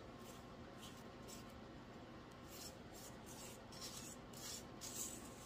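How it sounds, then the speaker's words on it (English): A spatula scrapes down the sides of a mixing bowl of Italian cream cake batter, a soft, steady rubbing rasp with repeated strokes, quiet and close, with no talking. "We're going to cut that off, lift it up, and give a good scrape down of the sides."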